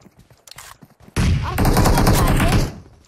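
Gunfire in the mobile battle-royale game PUBG Mobile, a loud sustained burst of shots that begins abruptly after faint background sounds and runs for over a second before cutting off.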